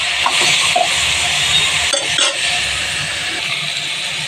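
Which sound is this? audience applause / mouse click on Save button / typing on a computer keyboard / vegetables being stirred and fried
vegetables being stirred and fried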